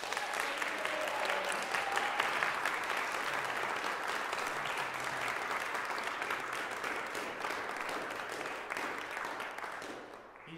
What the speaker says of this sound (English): can we give the biggest round of applause in the world for my oboe professor